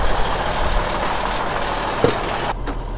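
A truck engine idling on a cold morning, a steady low rumble close by that runs throughout, with a brief clunk near the end and no voices.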